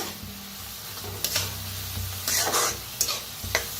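Soaked moth bean dal frying with onion in a pan sizzles steadily while a spoon stirs it, with a few louder scraping bursts near the microphone.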